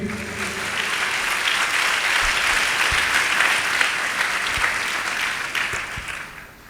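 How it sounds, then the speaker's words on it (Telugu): Loud, sustained applause from a church congregation at a Palm Sunday service, dense steady clapping filling the whole stretch and tapering slightly at the end. "చప్పట్లు కొట్టండి గట్టిగా"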